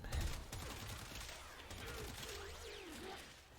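Alt fire from the Stahlta weapon in the Warframe video game, a dense crackling burst of rapid shots with a hard opening thump and a whirring tone sweeping through the middle, loud and continuous for a few seconds.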